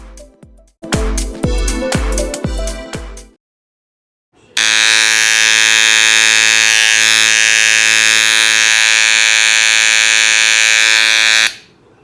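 An electric hair clipper with dry blades is switched on in short stuttering bursts, then runs steadily with a loud, harsh buzzing drone for about seven seconds before stopping.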